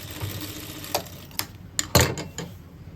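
A sewing machine stitches a half-inch seam on trousers, giving sparse mechanical clicks and taps over a steady low hum, fairly close.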